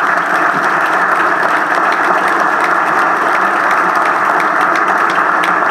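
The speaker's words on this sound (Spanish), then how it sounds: "Un caluroso aplauso" Sustained audience applause at a lecture for speaker Enrique Coppel Luque, a dense, steady wash of clapping from a large crowd that holds at an even level throughout without a break.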